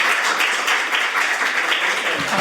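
An audience at a National Assembly debate forum claps to welcome the host lawmaker's opening address: dense, steady applause from many hands, loud and close, lasting throughout.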